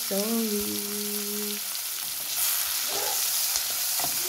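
Tomatoes fry in a pan for squid adobo, a soft, continuous sizzle with light crackles beneath a brief whistling tone at the start.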